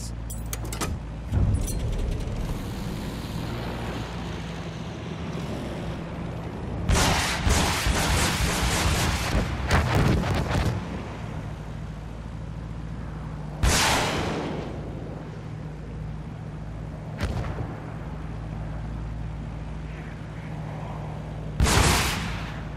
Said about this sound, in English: Try using the rockets on them. Get a feel for hitting the ground targets.